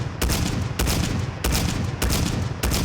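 Five evenly spaced shots from a semi-automatic Carrack .300 sniper rifle with wood-grain stock in a modded Fallout 4 game, each a loud, sharp crack with a booming tail, fired at a steady, unhurried rhythm.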